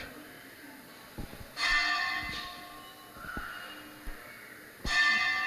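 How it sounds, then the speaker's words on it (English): Temple bells ring in two distinct bursts during a Srimad Bhagavatam class at an ISKCON temple, bright metallic clangs with lingering shimmer over a quiet room background, fairly close and moderately loud. "Let the bells finish."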